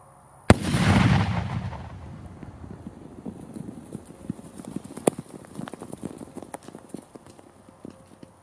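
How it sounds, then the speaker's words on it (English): A dud artillery projectile is set off with a small charge, producing one loud, sharp detonation with a heavy low rumble, followed by a long tail of scattered debris thuds and crackles. "We set it with a small bipping charge and set back to watch one of these projectiles finally detonate."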